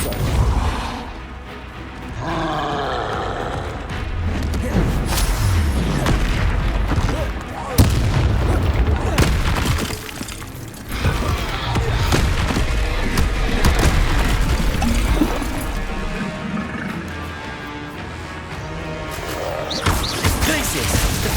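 Spell combat in Hogwarts Legacy, with ice, blasting and shielding spells fired in rapid succession, producing continuous loud booms, crashes and impacts layered with dense game effects and music throughout.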